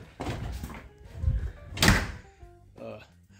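An indoor door swings shut with a single dull thunk just before the two-second mark, surrounded by muffled movement and a voice speaking nearby.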